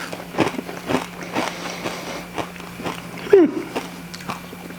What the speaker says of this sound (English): They taste just like Skittles, but have a lot more crunch to them.